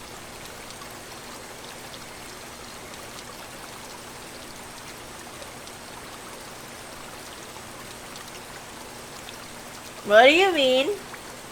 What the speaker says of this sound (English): all we're getting is just water sound effects behind this